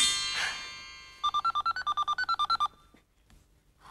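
A toy fairy phone gives a short electronic ringtone of rapid, evenly pulsed beeps, following a bright chime-like shimmer, then quiet room sound.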